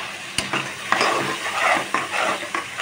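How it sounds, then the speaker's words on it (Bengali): Meat and chopped onions fry in oil while being stirred, producing a close, steady sizzle with repeated scraping and clinking strokes of the utensil against the pot, and no talking. "কিছুক্ষণ নাড়াচাড়া করব।"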